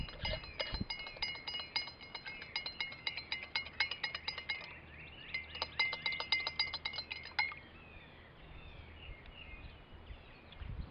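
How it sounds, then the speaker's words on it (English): A spoon stirs honey into a glass of wild violet flower drink, sounding as quick, bright clinks against the glass in two bursts, close and clear, followed by quiet. "And stir it around and get that dissolved."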